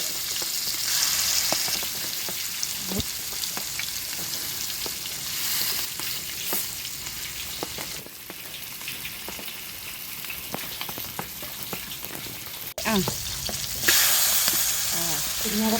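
Sardines fry over glowing embers in a village kitchen, giving a steady, dense, close sizzle and crackle that runs the whole time, with scattered sharp pops and a brief louder burst of spitting near the end, and no talking.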